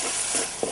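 Onions sautéing for a Tamil little millet kara puttu sizzle steadily in oil, with a couple of soft stirring scrapes rising briefly over the continuous frying hiss in a short burst.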